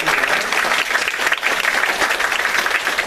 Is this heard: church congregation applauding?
yes